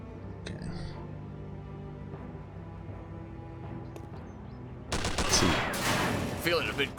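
Gunfire erupts in the World War II tactics game Silent Storm, a sudden loud burst of rapid overlapping shots after a quieter stretch with low background hum and scattered small noises.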